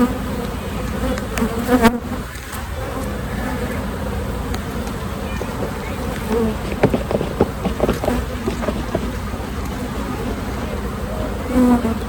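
Dense, steady buzzing of many honeybees swarming close around an open hive during an early-season inspection, with a few louder passes near the listener over a constant drone.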